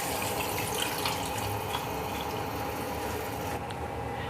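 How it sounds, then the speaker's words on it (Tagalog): Water streams steadily into a cooking pot of mackerel sinigang with tomatoes, a continuous close splashing pour that fills the whole stretch without any talk. "Nilagyan natin ng tubig to,"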